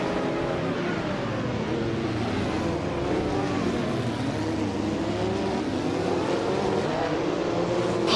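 Race cars in an AI racing video game roar along in a continuous engine drone with shifting pitch, loud and steady throughout with no voices.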